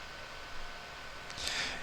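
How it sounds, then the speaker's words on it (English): Steady broadband hiss from an air conditioner running in the background, continuous and fairly faint, with a brief brighter swell of noise near the end. "If you guys are hearing any white noise in the background, that is the AC"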